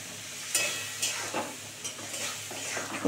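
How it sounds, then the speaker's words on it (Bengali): A spatula scrapes and stirs spice paste with a little water in a pan for a Bengali fish and cabbage curry, giving a soft sizzle broken by repeated scraping strokes, close and steady with no talking. "অল্প করে জল দিয়ে এবার মশলাটাকে খুব সুন্দর করে কষাবো"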